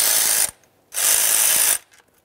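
Two bursts of rapid ratchet clicking as a ratchet works a 10mm valve cover mounting bolt loose on a 3.7L V6 2007-2013 Acura MDX, close and loud, with a short pause between the runs.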